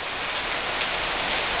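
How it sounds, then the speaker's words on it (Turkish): Steady, even rain pours down in a dense unbroken hiss, close and constant. "Şu anda çok güzel bir yağmur var"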